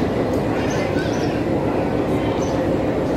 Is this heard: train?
yes